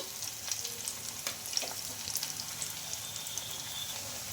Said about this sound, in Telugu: అటు ఇటు కొంచెం కాలే వరకు అయితే కొంచెం కలర్ చేంజ్ అయ్యే వరకు అయితే ఫ్రై చేసుకోవాలంటే చాలండి